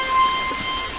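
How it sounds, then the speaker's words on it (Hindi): Steady heavy rain of the rainy season pours down as a dense, loud, continuous hiss with no voices. "बारिश के मौसम में बारिश गिरी तो ये तो अच्छा मौसम है ना"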